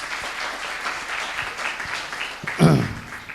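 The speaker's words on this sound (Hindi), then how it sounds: "ताली बजा दीजिए।" Audience clapping at a live event, a steady patter of many hands, with a voice breaking in briefly near the end.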